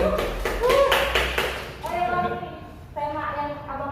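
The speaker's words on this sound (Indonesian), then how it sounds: "boleh tepuk tangan sekali lagi" Brief clapping from a student audience at an industrial engineering sharing session, a short burst of claps in the first two seconds followed by people talking.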